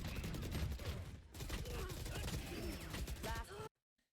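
Missiles launch in rapid succession during a video game, a dense, loud barrage of blasts and rumbling that cuts off abruptly into silence.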